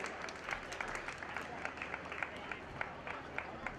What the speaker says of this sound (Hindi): आप लोग जोरदार तालियां बजाकर उनका सम्मान कर दें